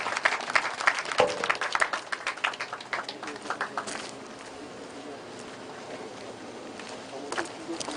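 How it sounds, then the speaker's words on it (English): Audience applause at a live event inside Kuje Prison in Nigeria, brisk and crisp for the first few seconds, then thinning into scattered claps over a low crowd murmur. "Please, another resounding round of applause for the controller"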